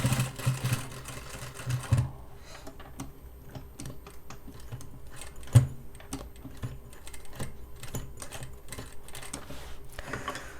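A sewing machine with very thick thread runs a single line of stitching along a jeans hem, making a rapid run of clicks up close, then a quieter pause broken by scattered ticks and small handling knocks.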